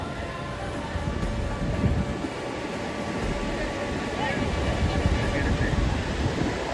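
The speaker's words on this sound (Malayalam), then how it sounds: "കടൽ നല്ല ശക്തമായിട്ട് അടിച്ചുകൊണ്ടിരിക്കുകയാണ്." A deep, continuous roar of heavy surf on a beach with strong sea rumbles on, waves churning and booming nearby under steady wind noise.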